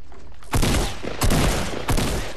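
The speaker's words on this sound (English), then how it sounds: "Why are you shooting?" Three quick bursts of rapid gunfire ring out close and loud in the video game Fortnite, each volley lasting about half a second with short gaps between.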